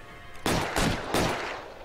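Three sharp gunshots ring out in the crime video game L.A. Noire, each a loud broadband crack with a short tail, spaced roughly a third of a second apart, with no talking over them.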